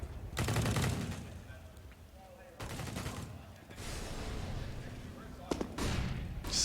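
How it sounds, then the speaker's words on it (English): Gunfire in Counter-Strike on the Inferno map during a professional match, a few shots fired down a corridor, heard as dense bursts of shots over a busy game background with commentators talking throughout. "Just a couple of shots down the corridor before he retreats."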